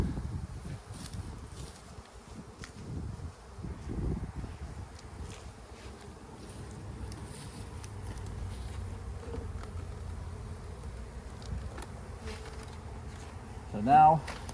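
Honeybees buzz steadily around an open spring hive as the boxes are rearranged, a soft continuous drone with individual bees passing close now and then, plus faint handling rustles and one brief knock near the end.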